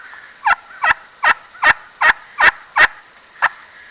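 A handheld turkey call imitates a gobbler yelp at a slow cadence, eight evenly spaced raspy yelps standing out clearly with no talk over them.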